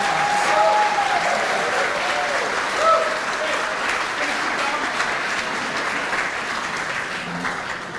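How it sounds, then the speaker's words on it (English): Applause for Hall of Fame inductees fills a high school induction banquet hall, a steady, loud round of clapping from the crowd that carries on throughout. "So let's give them all of our honored members, a great round of applause."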